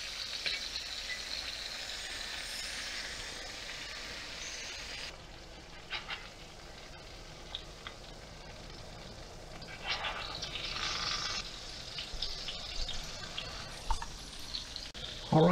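Beef patties fry in a pan with a steady, close sizzle that runs throughout, its crackle swelling briefly near the end with a few clinks and stirring noises.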